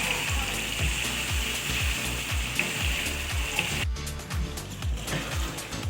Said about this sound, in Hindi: इसको भूनते वक्त अब हम इसमें हरी मिर्चें ऐड कर देंगे और फिर इसको अच्छी तरीके से भूनेंगे